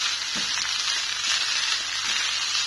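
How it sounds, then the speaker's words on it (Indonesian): Nasi goreng fried rice with egg frying in a pan, giving a steady, close, hissing sizzle with faint crackles and no talk. "Masak nasi goreng lagi."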